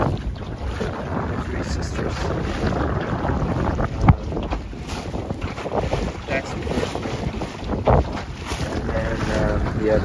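A sailboat under way on open water, bound for islands, with steady wind buffeting the microphone and water rushing along the hull throughout, moderately loud and continuous.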